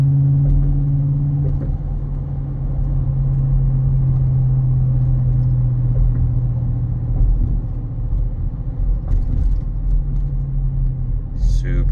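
A 2025 Ford F-150 XL 4WD pickup with a Whipple supercharger and 10-speed rumbles low and steady while driving, a smooth continuous drone heard close up from inside.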